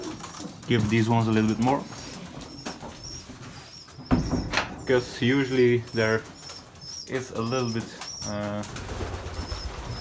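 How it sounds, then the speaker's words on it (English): Pigeons in a loft at feeding time, flapping wings and soft coos mixed with clattering and a door knock, while someone talks throughout. "there are a little bit more pigeons on here."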